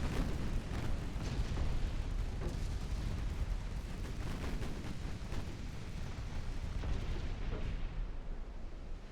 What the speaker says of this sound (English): we managed to score a torpedo hit